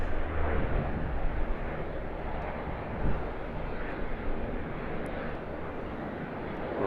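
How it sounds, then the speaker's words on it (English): A Boeing 777 freighter moves onto runway 25 at Sydney Airport, its jet engines a steady, distant broadband roar that holds evenly throughout with no voices. "Regional Express Saab 340 holding up the Boeing 777 freighter as it makes its way onto 25 here at Sydney."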